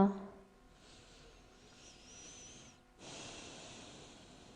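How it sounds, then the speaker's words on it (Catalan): A slow, deep breath during a yoga session: a long soft inhale, a brief pause, then an airy exhale, close and quiet. "Pares aquí al centre per fer una respiració profunda."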